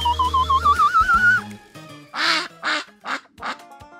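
A cartoon character transforming into a giant duck lets out four loud, separate quacks in a row, each one short and raspy. They follow a stretch of bubbly, wobbling cartoon sound effects.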